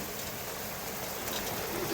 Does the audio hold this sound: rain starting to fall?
yes